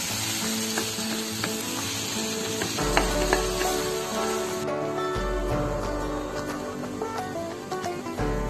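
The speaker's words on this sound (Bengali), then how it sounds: "এরপরেই দিয়ে দিচ্ছি টমেটো বাটা টমেটো পিউরিটা দেওয়ার পরেও দু থেকে তিন মিনিট ভালো করে নেড়ে চেড়ে নেবো" Tomato puree sizzles and fries in a pan while being stirred for an egg and elephant yam curry, a continuous close hiss with occasional scraping strokes.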